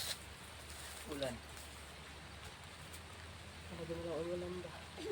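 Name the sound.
rain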